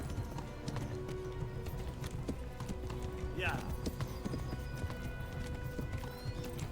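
A horse's hooves clip-clop steadily along a road in the medieval video game Kingdom Come: Deliverance, fairly quiet and continuous beneath a low ambient bed, with a brief whinny-like sound in the middle.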